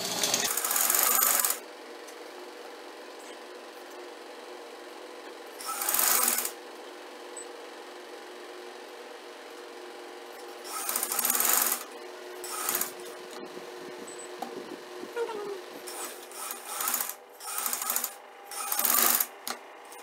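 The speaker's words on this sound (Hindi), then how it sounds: "अब मैं यहाँ से सिलाई लगाती हूँ" A sewing machine stitching a Chinese collar neckline runs in short bursts separated by quiet pauses, with light fabric handling between runs.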